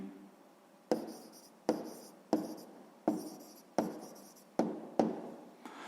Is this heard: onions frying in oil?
no